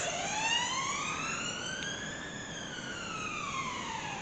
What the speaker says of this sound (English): is a lot of police cars going past.